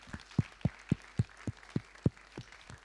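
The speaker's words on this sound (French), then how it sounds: "donc on peut bien sûr les applaudir" An audience at a school web TV broadcast applauding, a short run of about ten distinct, fairly faint claps in steady rhythm.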